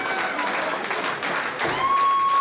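Crowd at a live wrestling event claps and cheers in a steady, dense wash throughout, with a sustained tone rising near the end.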